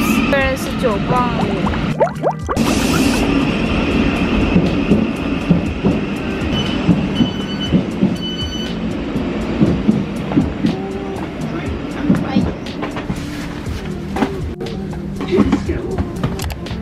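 A train runs along the tracks on the London to Brighton route, a continuous rumble with rhythmic clatter throughout, heard close from inside the carriage while people talk over it.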